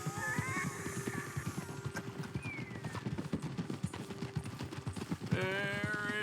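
Horse hooves clip-clop steadily in Red Dead Redemption 2, a brisk close rhythm of hoofbeats with a brief whinny and jingling tack near the end, under quiet game ambience.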